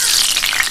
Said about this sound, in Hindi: अब मैं आपको फ्राई करके दिखाता हूँ